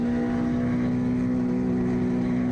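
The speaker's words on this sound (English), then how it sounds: "I can hear the exhaust bouncing off the walls, kind of like Assetto Corsa Competizione." Car exhaust note from a racing car in the Assetto Corsa EVO sim racing game, a steady loud droning engine tone with strong harmonics, sustained without breaks as it reverberates off trackside walls.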